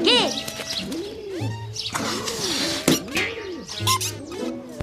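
Baby pigeons in a French cartoon chirp and peep repeatedly, rising-and-falling cartoon chirps over busy music and effects.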